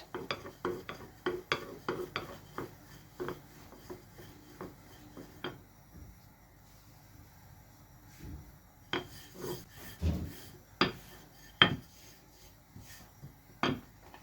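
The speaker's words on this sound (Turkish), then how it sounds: "Lavaşlarımızı açma işlemimize başlıyoruz." Lavash dough for Kayseri yağlaması being rolled out on a wooden board, a series of close, dry rubbing and tapping strokes in uneven bursts with quiet pauses between.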